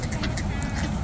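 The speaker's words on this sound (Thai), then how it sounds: "เป็ดเต็มเลย" Ducks quack in a dense, continuous cluster at a lakeside feeding spot at Lake Inawashiro, Fukushima, Japan, with a low rumble of ambient noise beneath the calls.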